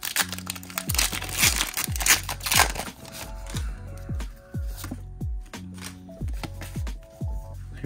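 Pokémon TCG cards from a booster pack are crinkled and flicked one after another in a close, crisp rhythm of sharp snaps and rustles, with a few brief faint murmurs.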